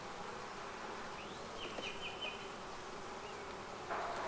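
Honey bees buzz steadily in and around an open hive during an inspection, a dense, even drone holding at low level throughout with no voices.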